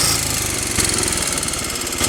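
A 1947 Gilera 250 Nettuno motorcycle engine idles close by with a steady, loud, pulsing single-cylinder beat and a faint mechanical tick, running continuously without talk.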